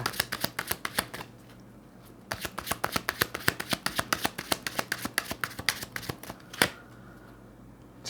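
Tarot cards are shuffled by hand for a reading in a rapid series of crisp riffling slaps. Two close bursts are split by a short pause, and one louder snap comes near the end.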